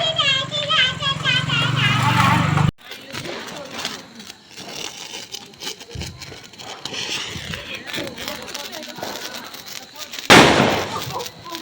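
Diwali firecrackers pop and bang in the open air, with one loud burst near the start and another near the end. A crackling hiss runs between them, and children chatter and shout throughout.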